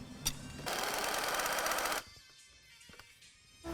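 An impact wrench rattles loudly in one sustained burst of about a second and a half, removing the last transmission bolts on a Mercedes 190e W201 during a clutch and flywheel replacement, with quieter clanks before and after.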